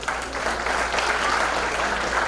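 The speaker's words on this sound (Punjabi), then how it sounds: "ਸੋ ਇੱਕ ਵਾਰੀ ਫੇਰ ਇਹਨਾਂ ਸਾਰੇ ਬੱਚਿਆਂ ਦੇ ਨਾਂ ਤੇ ਤਾੜੀਆਂ" Steady applause from an audience honoring middle school children after their speeches on freedom fighters at a Shaheed Udham Singh memorial speech competition, dense and continuous throughout without talk.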